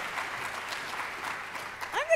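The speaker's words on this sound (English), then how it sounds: "you guys clap for them" A conference audience at an opening plenary claps in a steady, moderately loud round of applause, with a rising swell near the end.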